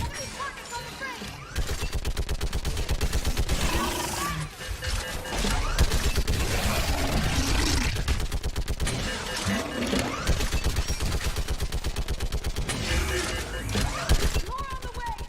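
Sustained gunfire in the Mass Effect video game during a battle on Thessia, dense rapid-fire rattling and bursts that run almost continuously, with voices calling out over the combat.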